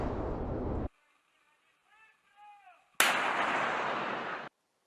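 Russian artillery fire in a combat zone: two loud, sustained roaring bursts of blast noise, cut off abruptly, with a quieter stretch holding faint tonal sounds between them.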